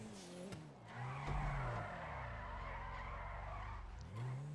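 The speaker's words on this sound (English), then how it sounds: "Oh, look at that drift." Car drifting with skidding tires in the GTA 5 racing video game, a sustained squealing skid over engine drone lasting several seconds, loud and continuous before easing off near the end.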